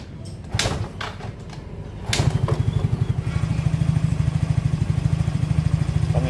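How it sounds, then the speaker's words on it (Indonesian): After a few knocks and clatters, a Yamaha Mio J scooter engine with a rough-running fault starts and settles into a steady, even idle, puttering close by. "Putaran mesin langsam normal."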